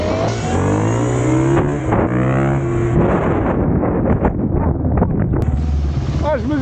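Two electric motorcycles, an AdmitJet Armor TY-E and a KTM Freeride E-XC, accelerate hard from a standing start in second gear. A steady, rising electric whine runs under constant wind buffeting, close and loud throughout.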